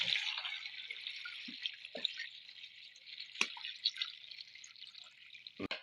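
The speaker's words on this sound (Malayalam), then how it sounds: "കുറച്ച് വെള്ളം ഒഴിച്ച് കൊടുക്കാം" Trickling water with scattered drips and splashes, fairly faint, over a steady hiss of running liquid, as water is poured into a cooking pot of vegetables.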